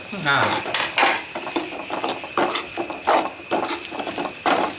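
Capsicum is stirred as it fries in a pan for pav bhaji, with close metallic clinks and scrapes of a spoon against the pan, repeated every second or so over a soft background sizzle.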